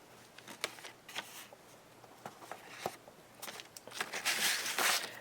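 Sticky tape pressed onto a scored journal page: soft, close paper rustling and small handling taps, ending in a louder, sustained crinkly tear-and-press burst.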